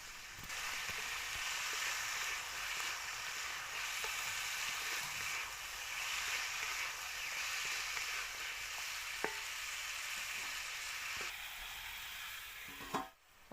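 Ground turmeric and spices fry in oil in a pan for a mini catla fish curry, a steady close sizzle running for several seconds with occasional soft clinks of a stirring spoon, then a brief clatter as it ends.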